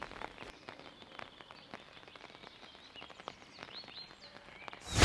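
Rain patters onto a microphone on a golf course as a steady stream of light, close ticks and taps, ending in a sudden loud burst of noise.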